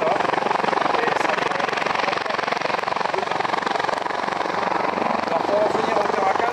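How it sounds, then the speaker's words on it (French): An 11-tonne class helicopter at an air show, its steady, loud rotor and engine roar close by and unbroken, filling the whole stretch with dense whirring noise. "c'est un hélicoptère de la classe des 11 tonnes."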